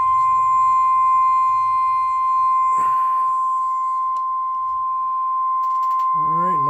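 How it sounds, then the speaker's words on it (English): A steady, pure electronic tone from a Kraco KCB 4030 CB radio under repair holds unbroken throughout, with a short burst of noise midway and a brief voice sound at the end. "Sorry about the beep."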